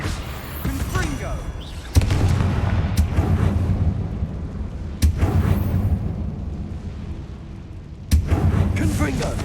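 Explosive Confringo spell blasts from Hogwarts Legacy gameplay, three sharp booming bursts with rumbling decay over steady game ambience, spaced a few seconds apart and loud.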